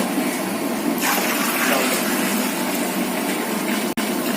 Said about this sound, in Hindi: अब हम इसमें पानी की मात्रा डालेंगे।